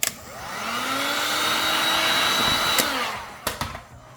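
A heat gun blows a steady, continuous airy whoosh close by while heating vinyl wrap film, holding even for about three seconds before a few short clicks and bumps as it shuts off.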